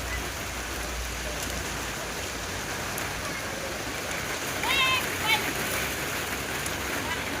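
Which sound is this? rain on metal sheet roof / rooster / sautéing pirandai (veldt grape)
rain on metal sheet roof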